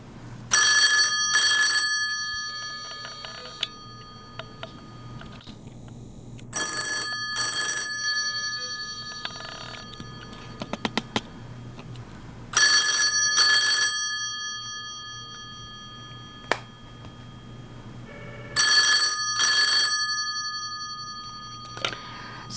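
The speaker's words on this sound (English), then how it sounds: "I'm gonna make the phone ring" A loud mechanical payphone bell rings in four long bursts with quiet gaps between them, each a rapid metallic double trill, close by.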